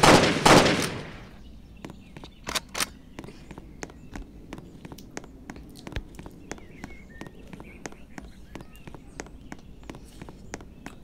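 Gunshots in the Roblox game Jailbreak, a long series of sharp single shots fired at a steady, slightly uneven rhythm after a loud opening burst of noise, fairly close and clear over a quiet background.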